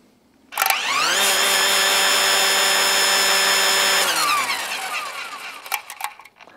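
A DeWalt 60V lawn mower's two-speed motor spins up on high, a loud, close, high-pitched whine that holds steady for about three seconds before spinning down, followed by a few light clicks.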